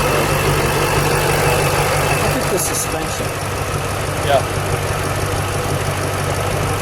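A red 2006 Ford GT with a Ford Performance exhaust idles nearby, a steady, loud low rumble running throughout while two people talk briefly over it.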